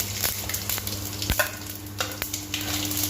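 Cumin, dried red chillies and whole garam masala sizzle and crackle in hot oil in a pan, a steady close frying hiss punctuated by scraping stirs and a few sharp knocks of a spoon.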